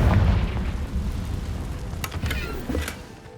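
A Confringo blasting spell in Hogwarts Legacy goes off with a heavy booming explosion that fades out, followed by scattered crackling and debris-like bursts.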